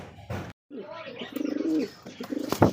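Racer pigeons coo close by in rolling, throaty bursts, two main phrases separated by short pauses, with a few soft rustles and flutters between calls.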